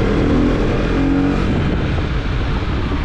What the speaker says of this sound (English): After 6000 RPM, the engine just comes to life.